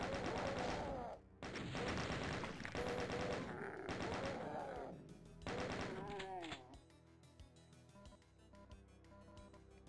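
Rapid bursts of gunfire in the first-person shooter Doom II, loud and close, with blasts and explosions packed together before thinning into scattered shots and game effects.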